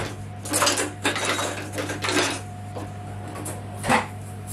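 A spatula scrapes and clinks against a bowl while stirring cookie dough for peanut-caramel cookies, several quick scraping strokes heard near and fairly loud, followed by a final knock on the rim.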